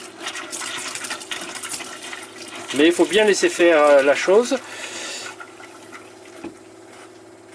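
Tap water runs through emptied hot and cold household pipes as they refill, a steady rushing flow with someone speaking French over it.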